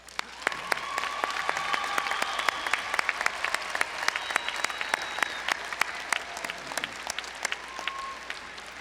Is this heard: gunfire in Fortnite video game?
no